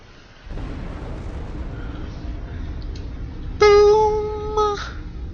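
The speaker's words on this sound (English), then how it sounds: "Close-up explosions." Close-up explosions in the real-time strategy game Planetary Annihilation: a sustained low rumbling roar fills the clip, then a loud burst of bright harmonic crackle lands near the end before fading.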